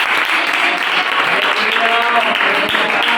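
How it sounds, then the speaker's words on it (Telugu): A congregation claps together in a dense, steady burst of applause at close range, with a voice speaking over it. "ఒకసారి చప్పట్లు కొడుతుంది."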